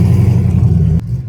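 Turbocharged 5.3 V8 held on two-step launch control, a loud, close, rapid popping rumble at steady throttle that cuts off abruptly near the end, with no talk.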